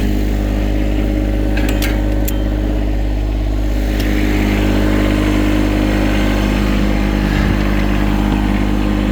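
A heavy tractor engine runs steadily at a low, throbbing idle, loud and close, with a few brief metallic clicks over it.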